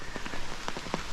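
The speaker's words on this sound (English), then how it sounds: "I don't know if you can hear, but it is raining." Rain patters on an umbrella held by a hiker on the Appalachian Trail, close irregular drops tapping the fabric in a brief burst.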